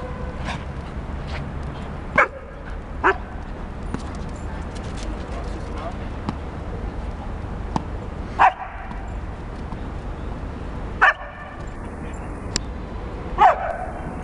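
A dog gives several sharp, separate barks and yips over a few seconds, with quieter background noise and some speech in between.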